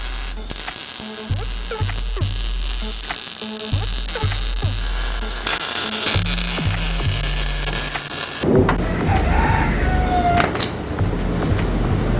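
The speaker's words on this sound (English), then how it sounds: "Weld away, buddy." Brackets being welded onto a Chevrolet Colorado drag truck, giving a steady buzzing, crackling arc hum with rhythmic pulsing, loud and close, then shifting to a rougher, noisier hiss near the end.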